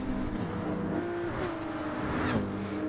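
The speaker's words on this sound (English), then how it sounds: "That Citroen is incredibly fast on acceleration" A Citroen race car accelerates hard in a racing video game at Circuit Gilles-Villeneuve, its engine a continuous loud drone with rising pitch sweeps as it pulls away, accompanied by other engine tones.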